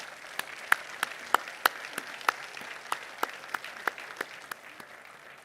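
Sparse, distinct claps from a small audience applauding the speakers at a formal event, individual hand claps ringing out one at a time in an uneven rhythm over a quiet room.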